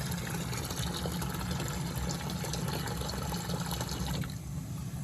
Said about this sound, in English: Take some water out of the boiler so that yellow light comes on.